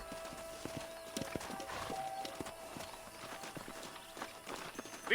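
Horse hooves clip-clop in the Western video game Red Dead Redemption, a faint irregular patter of steps with an occasional whinny under quiet game ambience.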